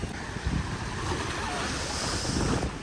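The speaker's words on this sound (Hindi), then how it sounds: "ये जो बड़ी बड़ी लहरें आ रही हैं ना" Big ocean waves crash steadily onto a beach in a continuous loud roar, with strong wind buffeting the microphone throughout.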